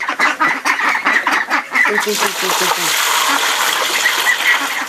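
Ducks quack in a busy, overlapping chorus, close by and loud, with rapid nasal calls tumbling over one another throughout.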